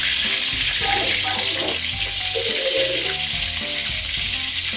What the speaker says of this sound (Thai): เราจะต้องทอด ที่หัวปลาและหางปลา ให้น้ำมันเยอะอยู่ที่หัวปลาและหางปลาตลอดนะคะ